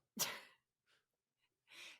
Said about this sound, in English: I feel like I'm going to sneeze again